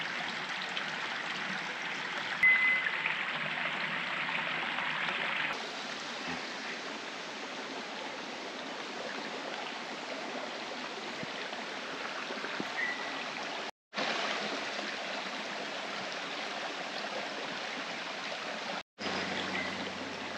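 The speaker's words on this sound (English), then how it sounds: "great sound of the river around" A river rushes steadily nearby, a constant broadband wash of flowing water with two brief dropouts.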